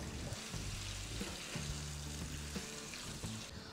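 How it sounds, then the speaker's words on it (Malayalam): Marinated chicken pieces fry in a pan for Chettinad chicken, giving a steady broadband sizzle with low clunks and scrapes as they are mixed, close and fairly quiet, without talk. "ഇനി നമുക്ക് നേരത്തെ മാരിനേറ്റ് ചെയ്ത് വെച്ച ചിക്കൻ പീസസ് ആഡ് ചെയ്യാം നന്നായി മിക്സ് ചെയ്യാം"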